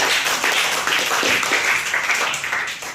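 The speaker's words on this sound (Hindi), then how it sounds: "ताली बजा बच्चे के लिए।" A classroom of children claps for a classmate, a dense, continuous burst of many hands applauding at close range for a few seconds, fading slightly at the end.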